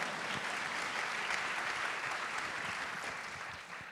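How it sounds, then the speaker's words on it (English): Audience applause at a film festival talk fills the room, steady and dense from start to finish, then tapers slightly at the end. No one speaks over it. "please clap."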